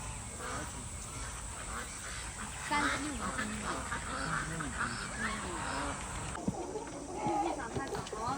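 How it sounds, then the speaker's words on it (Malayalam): Free-range country chickens, with ducks nearby, cluck and squawk all together inside a large farm in China, giving a dense, close, overlapping chorus of calls. "ഇതാണ് ഇവിടുത്തെ കോഴി ഫാമിൻ്റെ ഉള്ളു കേട്ടോ. നല്ല നാടൻ കോഴികളാണ്."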